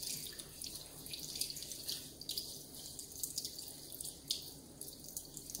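Water from a tap runs steadily and fairly quietly indoors while a dog is wetted down for a bath, splashing with small irregular spatters over a constant flow.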